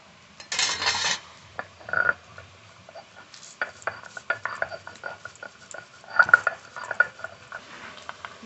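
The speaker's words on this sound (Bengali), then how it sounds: "ভেজে রাখা মশলাটা বেটে নেব।" Fried spices being ground into a paste for a fish curry, heard as rough, intermittent scraping and rubbing with clattering knocks, fairly close and with no talking.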